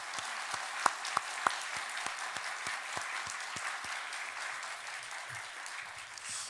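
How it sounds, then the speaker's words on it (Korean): A church congregation applauds during a Korean worship service, a steady wash of many hands clapping with a few sharper claps standing out, fairly distant and even, fading slightly toward the end. "우리 하나님께 영광의 박수를 올려드리겠습니다."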